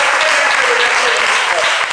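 A church congregation claps and applauds during a worship service, a dense, steady wash of many hands close by that fills the whole moment with little pause.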